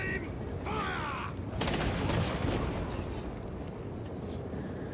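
A firing squad in a Warhammer 40k video game lets off a rifle volley, a loud burst of gunfire cracking out together and rumbling on for several seconds over constant background noise.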